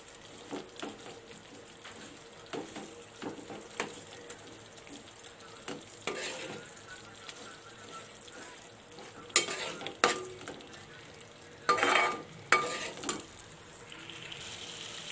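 Tomato curry sizzles faintly in a pan while a utensil stirs and scrapes in irregular bursts, with occasional louder clatters.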